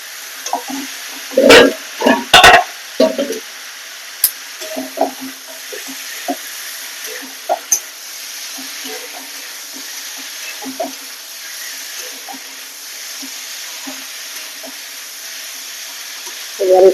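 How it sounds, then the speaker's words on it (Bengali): Fried potatoes and chopped capsicum cooking in oil, opening with a few loud clanks and scrapes of a utensil in the pan, then settling into a faint, even sizzle with occasional soft taps. "এবার দেবো এর মধ্যে ভেজে রাখা আলু আর দেবো কেটে রাখা ক্যাপসিকাম"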